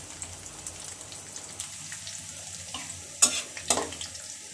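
Onion, garlic, cardamom and bay leaf frying in hot oil, a steady crackling sizzle with a couple of sharper spatters and stirring scrapes near the end, close and without speech.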